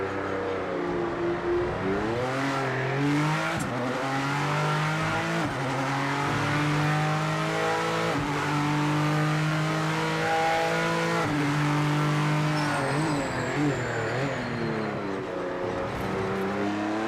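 A BMW race car engine in the racing game Project Motor Racing roars steadily for the whole stretch, revs climbing and dropping through gear changes, loud and close, with faint tire noise and no talk.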